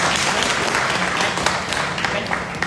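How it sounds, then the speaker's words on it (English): Guests clapping at a college get-together party in an indoor room, a close, loud burst of hand claps with some crowd murmur underneath. "whoever agree with this part, just have a clap, please"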